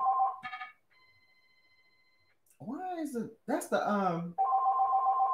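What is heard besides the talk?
phone ringing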